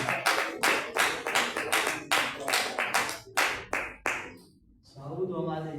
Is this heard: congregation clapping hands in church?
yes